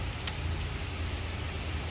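Steady rain falling outdoors in Newark, New Jersey, a soft even hiss with a low rumble beneath and one brief brighter patter, no talking.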